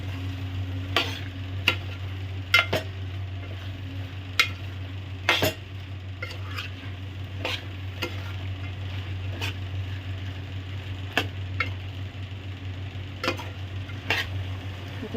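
Vegetables (peas, carrot, cauliflower, green beans, potato) for veg biryani stirred in a pot, with repeated sharp scraping and clinking strokes over a steady low hum and faint sizzle, no talking.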